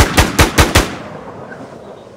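Rifle fire in the survival video game WarZ: four sharp, evenly spaced loud shots in quick succession, then a fading tail into quiet.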